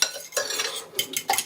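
Eggs are whisked briskly in a bowl for a salmon quiche, with quick bursts of clinking, scraping strokes against the sides, close and irregular, with short pauses between bursts.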